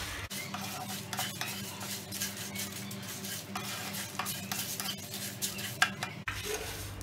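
Whole spices for chicken masala powder dry-roast in a pan on low heat, with steady rattling and scraping of a spatula stirring them, soft and close, with occasional light clinks and no talking.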